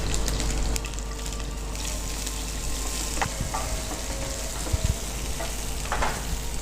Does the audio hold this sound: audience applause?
no